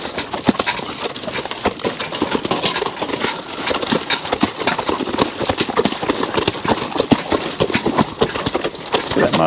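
Draft horses jog on a farm, their hooves clip-clopping in a steady, close, rapid rhythm that runs throughout, with occasional faint background noise.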